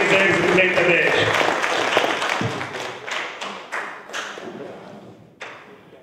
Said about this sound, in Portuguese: Por favor, aplausos para ele.